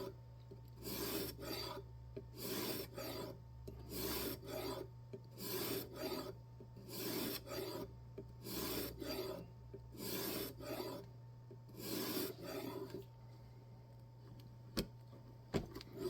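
A knife blade rasps back and forth across a sharpening stone held in a jig, about a dozen steady rhythmic strokes over a constant low hum, then the strokes stop and a couple of faint ticks follow.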